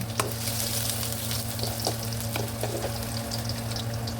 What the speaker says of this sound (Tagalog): Maglagay na tayo ng mantika. Ayan. So, unahin na natin ang ating bawang.